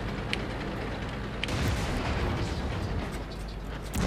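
A tank cannon in the World of Tanks video game fires and hits an enemy tank, a loud booming blast followed by a heavy rumbling roar. A couple of sharp impact cracks break through the rumble near the start and again later.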